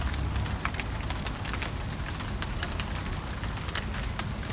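Steady rain falls on a food-forest garden, a dense even patter with scattered sharper drops, fairly faint and continuous with no talk.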